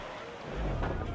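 Sailing ship in Assassin's Creed Freedom Cry surging under full sail through wind and open ocean, a steady rushing wash of wind and water that swells louder midway, with no talk over it.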